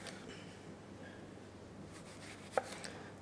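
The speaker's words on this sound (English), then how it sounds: "And we just want to cut that into cubes." A knife cuts an unpeeled apple into cubes on a board, giving a few faint, soft taps and one sharper chop near the end against a quiet background.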